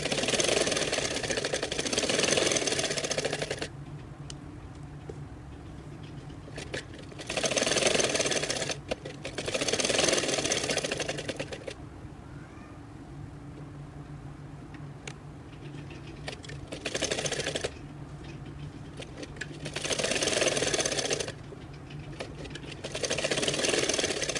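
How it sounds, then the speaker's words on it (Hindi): A sewing machine runs in several separate bursts of steady mechanical whirring with quiet pauses between them while stitching the fitting seam of a kameez. "अब मैं इसकी सिलाई लगाना शुरू करती हूँ फिटिंग की"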